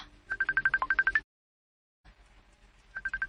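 Telephone ringing: a rapid electronic trill bursting twice, with a short silent gap between the bursts, close and clear and with no voices.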